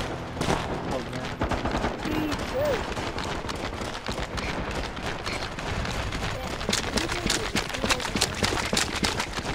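Gunfire from the shooter video game MAG rattles almost nonstop in dense automatic bursts and scattered shots, with faint voices now and then among the battle noise.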